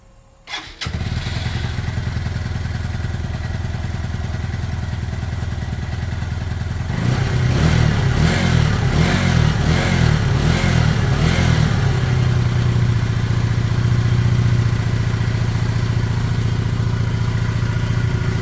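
A Lexmoto Michigan 125cc motorcycle engine, fitted with a new spark plug, cranks and catches, running steadily, then revs up in a series of loud pulses before settling to a higher, even idle.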